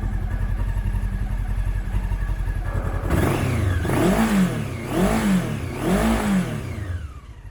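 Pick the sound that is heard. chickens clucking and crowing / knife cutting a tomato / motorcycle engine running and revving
motorcycle engine running and revving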